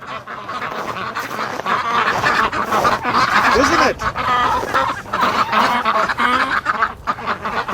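A flock of ducks quacks loudly and constantly close by outdoors on a sunny day, mixed with clucking fowl, while someone talks over the din.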